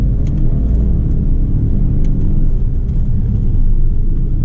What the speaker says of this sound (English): You can really hear those all-terrains when I'm braking under load there.